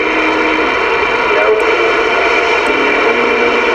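CB radio on a Hustler IC-100 antenna tuned to a local channel, giving continuous loud static hiss with faint, muddled transmitted voices underneath.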